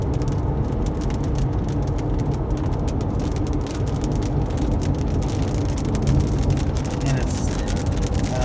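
Heavy rain from a hurricane storm cell pounds a moving car, a dense steady roar of drops on the body and glass over low road rumble, constant and loud throughout.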